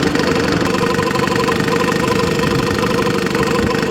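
A 1955 Mercury Mark 6 outboard motor idling in neutral, a loud, close, steady rapid putter with a rough knocking pulse and no voices.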